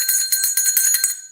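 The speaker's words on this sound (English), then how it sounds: "This bell." A small, inexpensive bell rings in a quick run of bright, shimmering strikes, about five clear tinkles close by that fade out over a second and a half.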